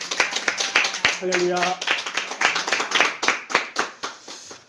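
A church congregation claps together during a Korean worship service, a quick run of rhythmic, fairly close hand claps with a brief spoken exclamation partway through.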